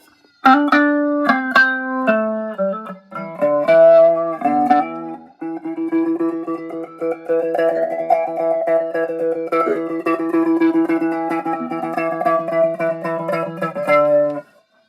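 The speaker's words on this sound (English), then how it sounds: "This is an adaptive flanger." Guitar notes and chords run through an adaptive flanger on a JOYO GEMBOX floor modeller, with a swooshing, jet-like shimmer rising and falling over steady picking, no voices.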